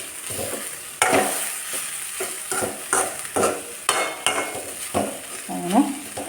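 Carrot and beetroot thoran frying in a pan, with a spoon scraping and stirring in repeated strokes over a steady close sizzle; no voices.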